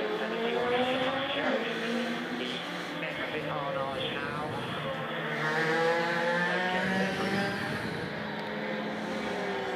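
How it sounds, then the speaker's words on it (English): A Ferrari race car slowing into the pit lane at the Le Mans 24 Hours, its engine a sustained droning whine that shifts pitch as it passes, heard at moderate distance beneath continuous commentary. "that's one of the other Ferraris getting stuck behind it coming into the pit lane"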